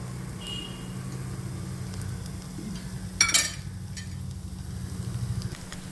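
Banana fritters (pazhampori) frying in ghee in a pan give a steady, close crackling sizzle under a low hum, with one brief louder scrape or clatter near the middle and no talking.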